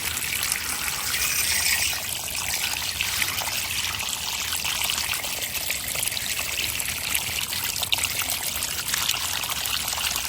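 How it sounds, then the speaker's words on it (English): Water runs through a PVC yard-drainage fitting in a steady, continuous trickling rush, close and fairly loud, with no pauses or talk. "that water travels a lot more smoothly through here"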